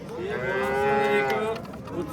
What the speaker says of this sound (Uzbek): Akalar ya yirik sigirlardan mana.